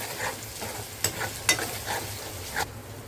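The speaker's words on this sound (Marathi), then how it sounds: "कांदा आलं लसणाची पेस्ट हे शिजून घेते मी" Onion, ginger and garlic paste frying in a pan gives a soft, steady sizzle broken by a few sharp scraping knocks of a spoon against the pan, fairly quiet and without talk.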